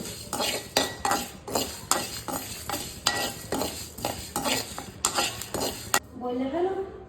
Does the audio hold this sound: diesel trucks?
no